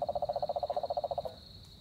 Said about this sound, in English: There you go, that's a cane toad.